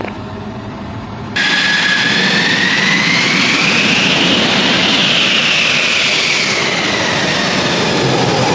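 An F-16 Viper fighter jet taxiing, its engine a loud, close, roaring whine that jumps up sharply after a second and holds steady, with a high turbine tone slowly rising and then falling, and no talking.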